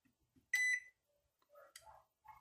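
A single short electronic beep rings out from a microwave oven's control board, followed by a few soft relay clicks and faint tonal chirps from electronics, all fairly quiet with no talking.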